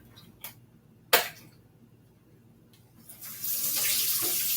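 Water runs from a tap into a sink to rinse lye-mixture soapmaking equipment. A few sharp knocks and clicks come first; then the flow starts and settles into a steady, fairly close hiss.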